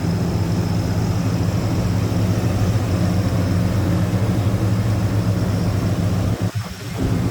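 A 1966 Pontiac GTO with a 389 tri-power V8 idles steadily up close, a deep even rumble that holds throughout before a brief dip near the end.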